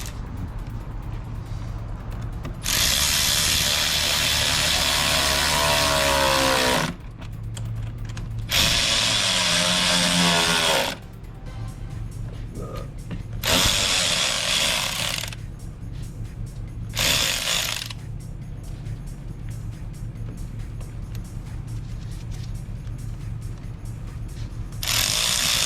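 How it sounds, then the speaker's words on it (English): A power driver tightens hose clamps on a cold air intake for a 2021 Jeep JL, with several loud, close bursts of whirring separated by pauses over a low, steady background hum. "Let me tighten those up."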